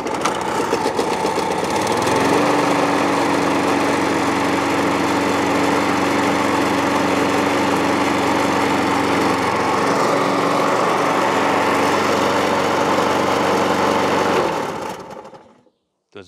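A Hayter 56 lawn mower's petrol engine runs loud and steady up close, a constant buzzing drone with a slight rattle, before cutting out and fading near the end.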